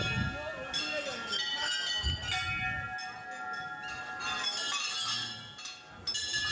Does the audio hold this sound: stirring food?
no